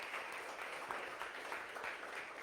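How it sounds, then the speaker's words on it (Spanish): A church congregation applauds in a steady, continuous patter of many hands clapping at moderate distance, with no talking. "Dele una ofrenda de palmas al Rey."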